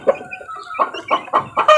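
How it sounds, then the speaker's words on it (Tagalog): Mother hens cluck in a quick, close run of short, throaty notes, loud and alone. "pakalat-kalat na inahin"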